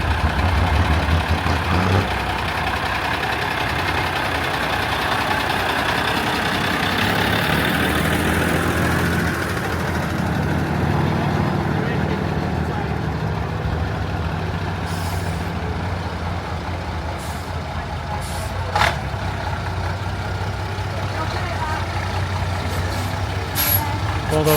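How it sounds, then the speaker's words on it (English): A monster truck engine idles at a traction engine rally with a deep, continuous rumble. Brief hissy bursts and a few faint high ticks break in later over the steady drone. "Hey, monster trucks,"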